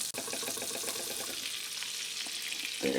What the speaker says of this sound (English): Next, I'm going to fry that egg